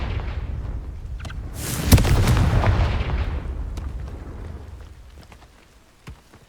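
In the Hogwarts Legacy video game, a fiery Confringo spell blast bursts loudly near the two-second mark, then rumbles and fades over a few seconds, with small crackling hits before and after.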